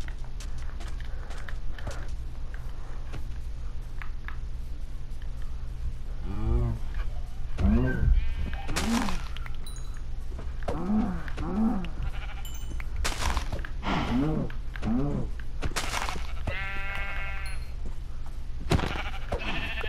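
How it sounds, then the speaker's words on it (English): Sheep bleat in the video game Minecraft, a series of short wavering baas repeating every second or two over a low steady background hum, with several calls close together in the middle and near the end. "Happy I have sheep to kill."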